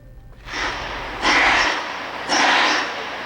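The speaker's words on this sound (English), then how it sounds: "That's the sound of natural gas escaping through a relief valve." Natural gas escaping through a relief valve on a stuck regulator in a residential neighborhood, loud broadband hissing rushes that surge in repeated bursts after a quieter start.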